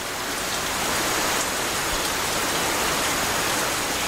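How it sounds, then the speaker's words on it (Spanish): Steady, dense rain falls in the Nyungwe cloud forest of Burundi, a loud continuous hiss without pause or any voices. "Nyungwe es un bosque nuboso. Aquí llueve casi cada día."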